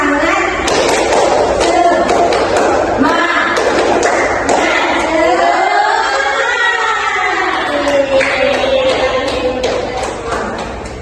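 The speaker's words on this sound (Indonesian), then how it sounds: "Kita tes semangat ya. Tepuk semangat." Schoolchildren in an Indonesian classroom clap out a rhythmic chant together, loud crisp hand claps in patterned bursts mixed with many young voices chanting over them.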